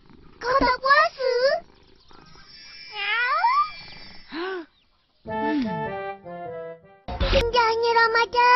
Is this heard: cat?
yes